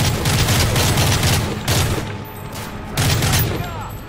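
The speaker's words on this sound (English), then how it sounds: "Throwing grenade." Call of Duty Modern Warfare III gameplay: dense rattling gunfire bursts dominate, swelling around the start and again near the end, with a heavier blast from a thrown grenade mixed into the loud firefight.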